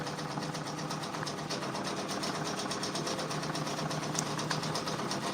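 A Brother Persona embroidery machine with its 4-inch hoop stitches out a Drake patch, a steady, fast mechanical whir with a rapid repeating needle rhythm running unbroken and fairly close throughout.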